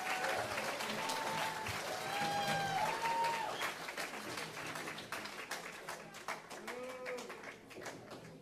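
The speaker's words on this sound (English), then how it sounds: "So one more round of applause for them." An audience at a school arts night applauds for the seniors, a dense spread of clapping with faint cheering and voices mixed in, holding steady before thinning slightly toward the end.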